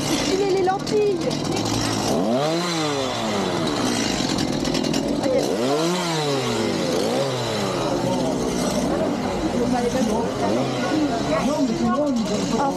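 A chainsaw engine runs loud and close at a Halloween haunted house attraction in Bellewaerde Park, its pitch rising and falling as it revs up and settles back several times.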